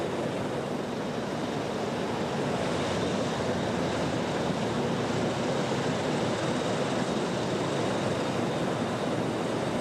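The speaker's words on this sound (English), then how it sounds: "They've engineered air movers and turbine engines to create a real F2 tornado on the Fujita scale, capable of blowing down a house" A steady, dense roar of air movers and turbine engines drives an artificial F2-strength tornado at a stage illusion show, a constant loud rushing wind that does not let up.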